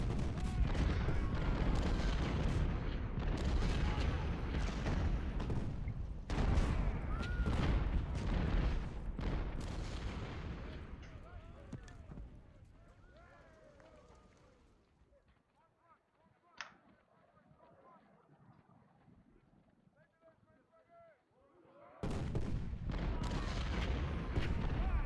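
Artillery guns fire in a Civil War strategy game battle, heavy booms and rattling volleys crowding together loud and dense, then dropping away to a quiet lull before another loud burst of cannon fire returns.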